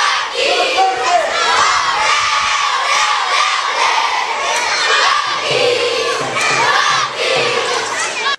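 Crowd of young supporters at an under-12 interschool football tournament final chanting, shouting and cheering loudly and continuously, with massed children's voices filling the stands.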